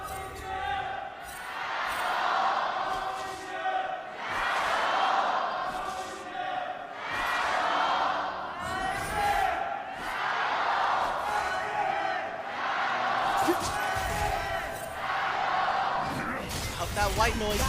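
A big crowd cheering at an LPL esports match in Xi'an, waves of loud roaring and screaming rising and falling in repeated surges, with commentators talking over it.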